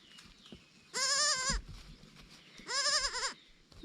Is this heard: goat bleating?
yes